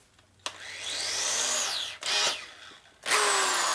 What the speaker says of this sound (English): take your drill motor, take your reamer